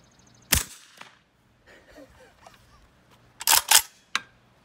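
Suppressed 5.45x39mm rifle shots from an OSC-13 rifle fitted with a Dead Air Sandman K suppressor, subsonic and supersonic rounds alternated: a sharp crack near the start, then a tight double report and a lighter final shot after a lull with faint movement noise.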